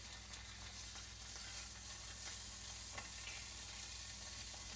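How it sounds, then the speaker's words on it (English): Bologna slice frying in a pan for a sandwich, a faint, steady low sizzle with a constant hum beneath and a few soft crackles, no talking. "the bologna is cooking"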